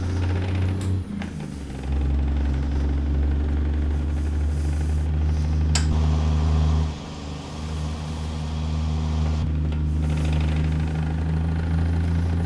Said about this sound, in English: But it is a over 600 horsepower engine